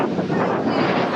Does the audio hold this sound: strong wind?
yes